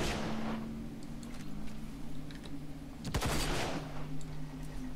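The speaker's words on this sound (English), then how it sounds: "I can see two people shooting." Gunshots crack from a video game shooter over a steady low hum, with scattered distant shots and a louder cluster near the middle.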